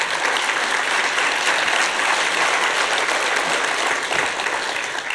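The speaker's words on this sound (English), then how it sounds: "Let's give her an applause." Steady, full audience applause at a film industry conference as a panelist comes to the stage, many hands clapping evenly for the whole stretch with no break.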